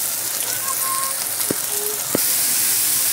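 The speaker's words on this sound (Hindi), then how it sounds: "ऑनियन को भून लेना है अच्छे से।" Thinly sliced onions browning in hot oil, a loud continuous hiss and sizzle close by with a couple of sharp clicks from the pan, no voices.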